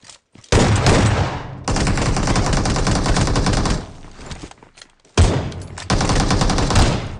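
Bursts of rapid automatic gunfire in a battle royale video game, loud and close, in long volleys separated by brief pauses, with no talking.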